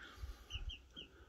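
Young Japanese silkie chicks, a few high thin peeping chirps scattered over quiet background with soft low thuds, faint and close.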